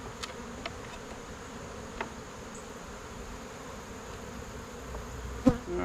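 Honeybees drone steadily around a hive during requeening, a soft, close, continuous buzz with a few brief louder passes near the end.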